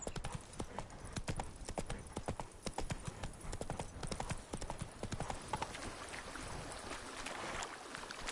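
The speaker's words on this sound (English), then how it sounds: "Run, Roach." Rapid galloping hoofbeats of a horse in The Witcher 3 on PS5, a steady close clip-clop rhythm that runs throughout, with a faint watery wash underneath.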